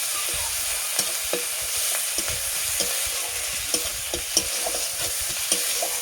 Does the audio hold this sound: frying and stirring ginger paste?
yes